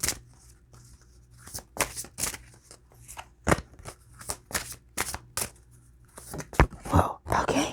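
Spirit reading cards are shuffled up close in a series of crisp riffling bursts with short pauses between them. The bursts grow busier toward the end.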